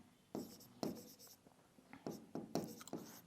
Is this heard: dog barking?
no